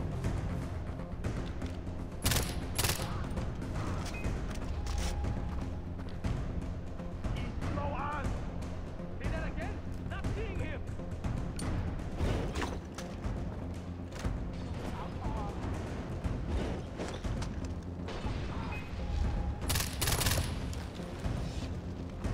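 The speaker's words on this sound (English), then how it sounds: "switch back to the submachine gun" Submachine gun fire in Far Cry 4, sustained bursts and sharp cracks rattling on and off over a long stretch amid explosions, loud and close, with a voice talking over the fighting at times.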